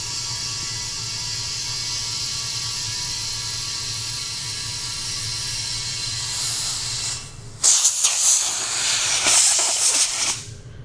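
Compressed air hisses steadily into a go-kart tire as it fills, then gives way to louder, sputtering bursts of rushing air near the end. Close and continuous, with no talking.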